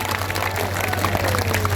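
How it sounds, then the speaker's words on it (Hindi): Dense applause from an audience at a political rally, a loud, continuous wash of clapping that holds steady throughout the brief moment. "सब लोग जोरदार ताली बजा के अपना अपना स्वागत करने का काम करिए"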